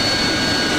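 A Harrier jet engine in the DCS World flight simulator gives off a brief, steady, loud whine with a constant high tone over a broad roar.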